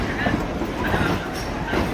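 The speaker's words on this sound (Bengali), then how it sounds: "এই সবে ট্রেনটা স্টেশনে ঢুকছে।" Kalka–Shimla toy train pulling into a station, a steady rumbling rail noise with faint clatter running throughout, close and continuous, with voices talking over it.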